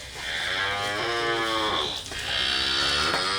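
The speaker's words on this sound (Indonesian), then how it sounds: "saat ini memiliki puluhan sapi potong yang siap untuk dijual." Beef cattle on a village farm in Desa Pitak, Kampung Sidomulyo, Indonesia, lowing loudly and close by in two long, drawn-out moos separated by a brief pause.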